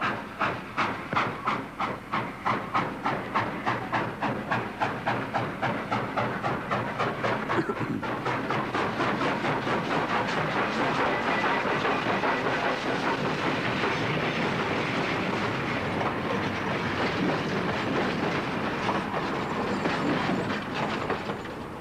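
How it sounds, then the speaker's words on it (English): A train in England rolls steadily along the rails with a rhythmic clickety-clack of wheels over joints, a continuous rumbling hiss building and sustaining throughout, no voices. "this brings back to memories some of the sounds of railroading"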